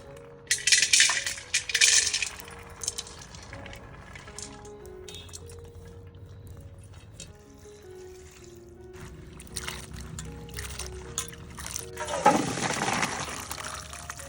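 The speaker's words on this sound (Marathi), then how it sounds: "तर आता ह्या भाज्या आपण स्वच्छ धुवून घेऊयात" Fresh vegetables, including small-cut carrot pieces and peanuts, being washed in water for a Kolhapuri Bhogi bhaji: bursts of splashing and sloshing near the start and again strongly near the end, with quieter water handling between.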